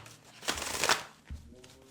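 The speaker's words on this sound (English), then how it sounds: "let's shuffle up the cards" Tarot cards being shuffled by hand, two quick riffling bursts close to the microphone, soft and crisp, with no voice over them.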